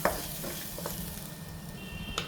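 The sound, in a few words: fish curry poured into sizzling masala and stirred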